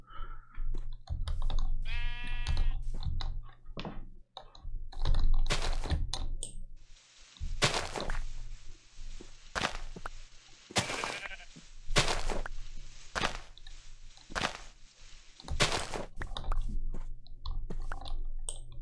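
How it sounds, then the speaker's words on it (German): Sheep in the block-building game Minecraft bleat once early on, while sharp clicks and taps repeat through the rest of the stretch over quiet background, with no talk. "Hey Schaf."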